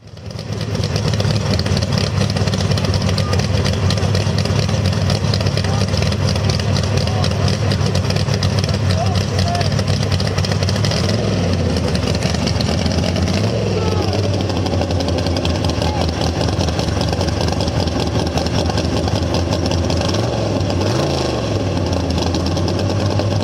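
Motorcycle engine at an SCTA El Mirage dry lake racing event, a continuous droning hum under a public-address announcer calling out times, with a faint rising whine drifting through partway along.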